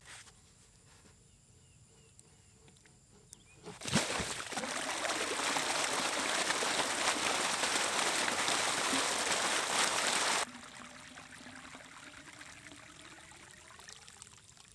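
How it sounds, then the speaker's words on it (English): Pressurized water rushes out of a newly installed drain pipe, flushing dirt through it in a loud, steady gush that bursts in suddenly and runs for several seconds before cutting back to a quieter trickle. "all of that dirt is going to get pressurized and pushed out of there with the flowing water coming through these pipes"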